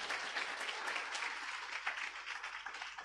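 A small audience claps at a steady, continuous pace, producing a dense patter of applause that holds even throughout.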